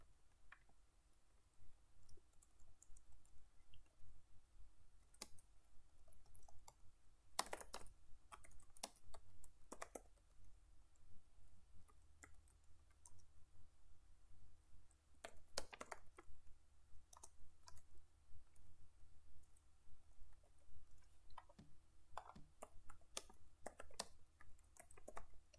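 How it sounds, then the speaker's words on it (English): Quiet, steady typing on a computer keyboard, with irregular clusters of key clicks and occasional sharper taps continuing for about half a minute with no talking. "We are typing some."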